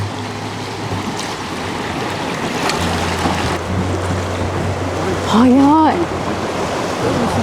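Fast river current rushing under a boat on the Nagatoro Line descent in Chichibu, a continuous loud wash of water with high flow, a brief voice exclaiming over it and a bird-like chirp near the end.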